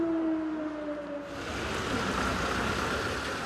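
A long wailing air raid siren tone slides downward, then gives way to a broad, steady rushing noise that fills the rest of the clip.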